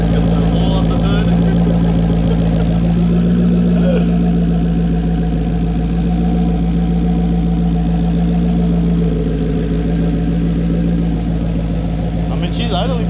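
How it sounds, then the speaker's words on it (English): A single-turbo Ford Mustang S550 idles at its first start, a steady low, loud rumble with constant harmonic drone and slight fluctuations, with voices talking over it. "I mean, she's idling pretty good."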